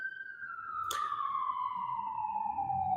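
An ambulance siren wails steadily, its pitch gliding slowly downward, with a brief sharp burst near the start.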